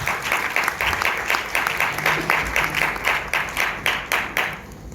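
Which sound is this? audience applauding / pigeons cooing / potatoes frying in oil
audience applauding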